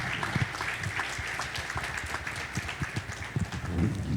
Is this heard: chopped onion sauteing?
no